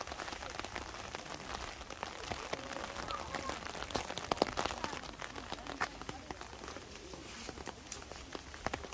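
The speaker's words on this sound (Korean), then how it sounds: "빗소리." Rain falls on a street during a walk, a dense close patter of drops with scattered sharper hits, continuous throughout with faint voices now and then underneath.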